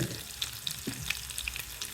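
Dried red chillies, green chillies and asafoetida sizzle in hot oil for a Kathiyawadi vegetable tempering, a steady crackling fry with a few sharp pops and light stirring, close and alone.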